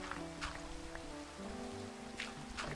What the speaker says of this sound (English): I'm living out here in the rain.